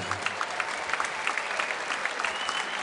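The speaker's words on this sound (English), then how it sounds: "give both fighters a round of applause." A crowd applauds both fighters after an MMA bout at Superior Challenge 8 in Malmö. Dense, continuous clapping fills the arena, and a few faint voices sit underneath it.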